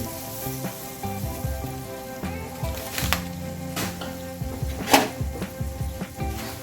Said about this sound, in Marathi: हे सगळं परतून घेते मी